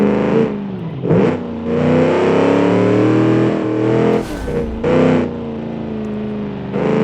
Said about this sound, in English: I'm just having to yell over the car.